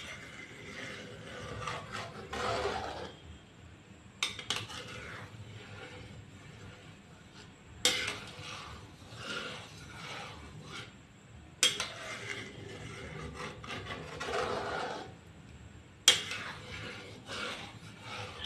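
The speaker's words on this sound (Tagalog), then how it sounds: "Ihalo-halo siya hanggang lumapot." Boiling biko, a sticky rice dessert mixture, stirred in a pot: repeated scraping and knocking of a spoon against the pot in irregular rounds, with occasional sharper clanks, close and without talk.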